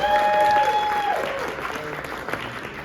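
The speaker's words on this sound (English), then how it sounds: "How about another round of applause for our students?" People at a school board of education meeting applaud students in a brief round of clapping that fades out, with a ringing tone and some voices in the room.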